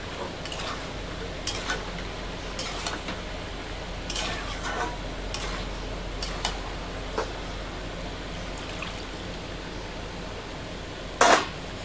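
A spoon scrapes and stirs mango chicken curry in an oily pan after sugar goes in. Faint, regular strokes sound over a steady low sizzle, with one sharper clink near the end.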